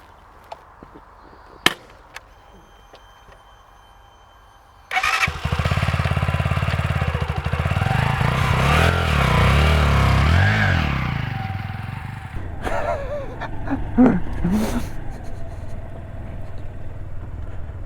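A Zontes Mantis 125cc motorcycle starts after a few clicks, then rumbles and revs loudly up close before pulling away and fading, with some clunks near the end.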